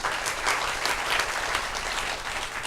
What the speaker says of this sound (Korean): 뜨거운 박수로 환영해 주셔서 감사합니다